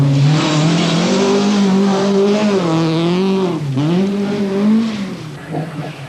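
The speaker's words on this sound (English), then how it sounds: "heading the world's best on the opening special stage at Weston Park is Britain's top hope on the event, Tony Pond in his Vauxhall Chevette" Tony Pond's Vauxhall Chevette rally car on the opening special stage at Weston Park during the 1981 RAC Rally, its engine revving hard and close, pitch rising and dipping as it shifts through the gears.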